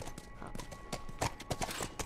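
Horse hooves clip-clop in an irregular, moderately close walking rhythm in The Last of Us, a faint steady hum beneath the steps.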